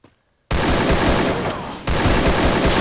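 Shootout in a video game: after a brief silence, a sudden, loud, continuous stream of rapid gunfire bursts in close, sustaining to the end with a slight dip midway.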